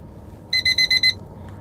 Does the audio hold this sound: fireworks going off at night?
no